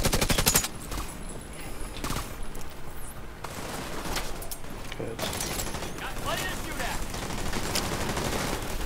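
Automatic and rapid gunfire in The Division 2 during a heroic mission to save Cindy McAllister, with bursts and sustained volleys running continuously at close range, loud and dense, with a player's voice talking over it.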